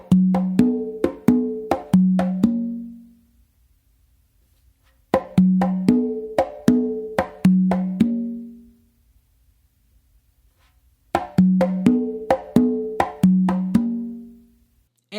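Four congas play a guaguanco pattern of crisp slaps and ringing open tones in three repeated phrases, each a quick run of strokes followed by a few seconds of silence.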